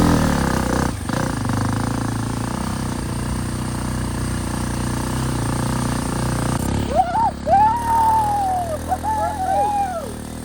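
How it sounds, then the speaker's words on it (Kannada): A Hero Xpulse motorcycle riding off-road on a rainy hill trail, with a loud, steady engine drone that later mixes with rising and falling engine whines from other bikes, close and without talk. "ಈಗ ಸ್ವಲ್ಪ ಒರಿಜಿನಲ್ ಬೈಕ್ ಸೌಂಡ್ ಅನ್ನ ಕೇಂಬಲ್ಲ."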